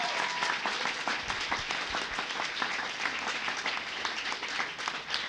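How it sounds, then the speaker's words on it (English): Audience applause at a youth technology event, a steady, dense wash of many hands clapping throughout, fairly even in level with no talk over it. "Round of applause right there, y'all."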